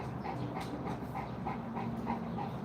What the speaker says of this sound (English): I'm just here with the big dogs